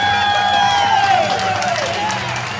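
A birthday crowd at a Chuck E. Cheese–style party claps and whoops for the guest of honor, a steady, loud wash of applause and cheering over bright background music and some voices.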